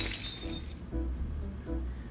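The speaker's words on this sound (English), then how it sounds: "Sounds like another mug broke" A mug breaks and glass shatters in a kitchen, starting with a loud, bright crash that quickly fades. A few small clinks of settling shards follow.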